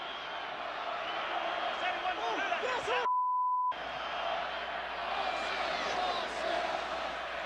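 A roaring stadium crowd at a 1990 Michigan versus Ohio State football game in Ohio Stadium's Horseshoe, a constant loud wash of noise under a commentator's voice, broken by a brief tone.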